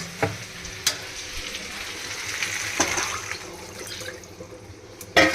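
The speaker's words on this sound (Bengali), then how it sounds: "এবার দেবো আমি এখানে জল" Water poured into a pan of frying potatoes and pointed gourd for a curry sets off a soft hiss and bubbling sizzle, with a few sharp clanks of the pan and spoon along the way.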